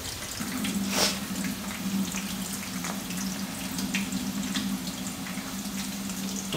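Water from soaked rice pours out steadily in a kitchen while biryani is being prepared, a continuous close splashing flow with a low hum underneath and no talk.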